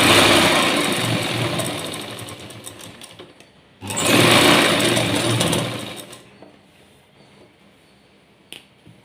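A sewing machine runs steadily while stitching a loose-stitch hem strip on a blouse, with two loud bursts of whirring separated by a brief pause, then quieter handling at the end.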